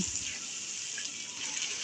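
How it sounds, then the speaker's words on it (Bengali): A little water added to spices in a pan for duck curry runs with a steady, moderately quiet watery gush and no talk. "মশলাটাকে কষানোর জন্য দিয়ে দেব সামান্য একটু পানি"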